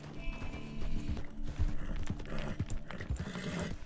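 Horse hooves clop in a quick, steady rhythm across the ground in the video game Red Dead Redemption 2, close and continuous, with a faint neigh mixed in among the hoofbeats.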